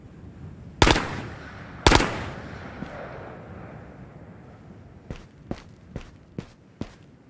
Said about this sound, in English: So much gunfire, I can't see anyone there.